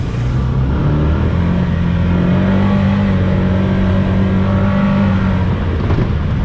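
Can-Am Defender XMR side-by-side engine pulling hard on a trail, a loud steady drone that rises in pitch as it accelerates, with constant rumble and no talking.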